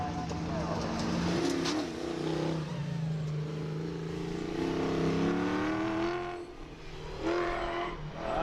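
A 1969 Chevrolet Camaro at a drag race shootout, its engine droning and revving over several seconds, easing off and then surging again, with commentators talking over it.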